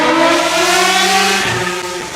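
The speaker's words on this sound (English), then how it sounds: "Kid on a motorcycle here back in a 25-mile-an-hour zone, small street, and he's flying through here like a bat out of hell." A motorcycle speeds along a small 25 mph residential street, its engine loud and close with a high, sustained whine that shifts in pitch as it races past.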